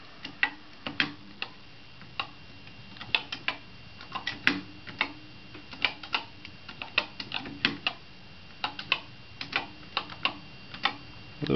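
Fingers type a program on a Commodore PET keyboard, sharp irregular clicky keystrokes in quick clusters and single taps, close and dry over a quiet background for about eleven seconds.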